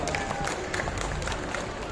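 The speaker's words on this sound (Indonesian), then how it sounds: "Beri tepuk tangan untuk Kang Bambang Irawan" An audience at a literacy event applauds a speaker with dense, continuous clapping and crowd noise, steady and fairly loud throughout.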